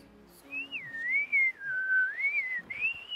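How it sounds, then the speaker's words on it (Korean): On the Jeju coast, a haenyeo diver surfaces and releases a long, eerie, whistle-like breath that wavers up and down in pitch for about three seconds, clear and fairly close against quiet surroundings. "이게 휘파람 소리 같이 아주 기이한 소리가 들릴 때가 있어요"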